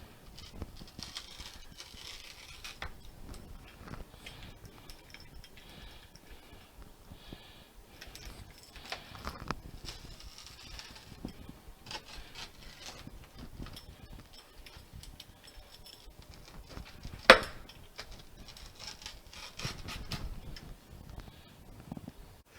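Homemade pan pizza being cut in a cast iron skillet, quiet irregular scraping and tapping strokes over about twenty seconds, with one sharp metallic clink near the end and no talking.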